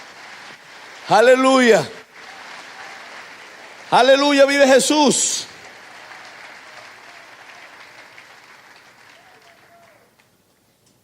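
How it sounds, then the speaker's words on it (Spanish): An evangelical church congregation applauds for Jesus in a steady wash of clapping that fades out slowly, after two loud shouted hallelujahs from a voice. "Aplauda a Jesús de Nazaret."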